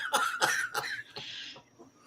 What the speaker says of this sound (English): And I have this cough now.